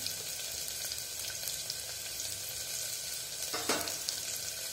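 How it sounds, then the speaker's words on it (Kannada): Onion and tomato frying in a pan for radish sambar, a steady close sizzle with occasional soft stirring and one brief louder scrape near the end. "ಹಾಗೆ ಟೊಮೊಟೊ, ಸ್ವಲ್ಪ ಮೆತ್ತಗಾಗೋವರೆಗೂ ಫ್ರೈ ಮಾಡ್ತೀವಿ"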